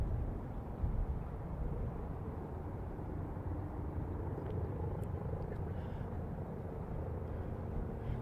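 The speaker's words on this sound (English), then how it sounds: "Is the police helicopter still down here?" A police helicopter hovers near Christchurch Airport, heard as a faint, distant, continuous low rumble that stays steady throughout.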